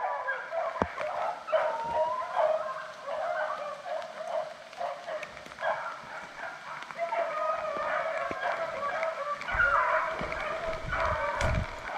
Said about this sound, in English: Here, Jerry, he's my best hunting dog I got. He just had a seizure on us.